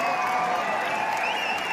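An audience claps at an anniversary event, giving a short, continuous wash of applause from a crowd with no clear single claps.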